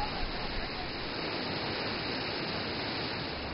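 Waterfall in the Great Shaoguan Canyon, a steady, even rush of falling water heard as constant broadband noise at moderate distance, unbroken throughout.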